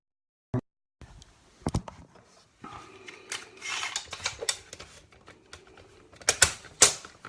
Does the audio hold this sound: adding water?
no